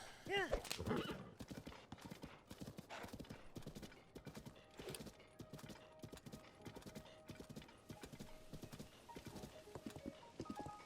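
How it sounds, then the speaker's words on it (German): A horse whinnies loudly at the start in The Legend of Zelda: Tears of the Kingdom, followed by steady clip-clopping hooves at a trotting pace with occasional clicks and background game sounds. "Da ist ein Pferd."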